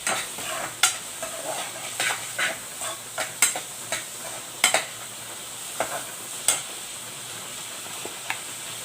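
Chopped fresh ingredients are sautéed with onion in a pan, with a soft sizzle underneath and repeated sharp scraping stirs at an uneven rhythm, close and fairly quiet.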